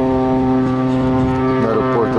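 A propeller air taxi at Sorocaba Airport drones steadily and loudly at close range, with a constant engine and propeller hum throughout.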